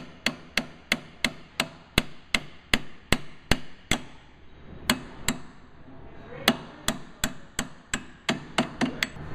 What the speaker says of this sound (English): So I got the nuts off, and then just tap the bolts out.